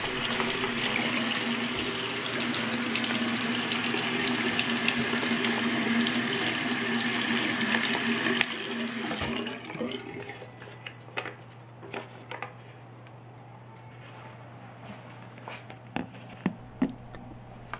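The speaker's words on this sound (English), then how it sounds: "We'll try to wash it." Running tap water gushes steadily into a sink while a polymer Canadian 20 dollar banknote is washed under it, then the flow stops, leaving faint drips, handling noises and small clicks.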